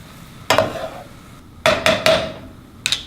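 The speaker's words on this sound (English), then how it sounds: "I'm gonna add the pasta right to this pan with the broccoli and the onions and the garlic. You can hear it sizzle" Cooked pasta tossed in a pan with broccoli, onions and garlic, heard as a few sharp bursts of sizzling as it is stirred, close and loud with short quiet gaps between them.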